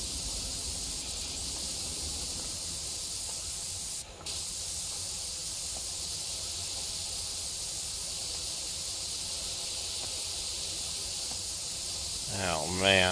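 A pressure washer sprays continuously in the video game PowerWash Simulator 2, a quiet, even hiss that breaks off for a moment midway, with a brief voice-like sound near the end.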